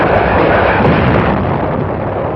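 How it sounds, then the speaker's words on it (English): Heavy naval gunfire from a large United Nations fleet bombarding the shore at Inchon roars as a dense, continuous wall of booming blasts and rumble, loud and close throughout, with no voices. "Guns of the 262-ship United Nations Armada began their point-blank preliminary"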